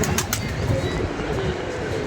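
Dense, noisy ambience with a low murmuring rumble that fits pigeons cooing, mixed with constant background noise and faint higher calls.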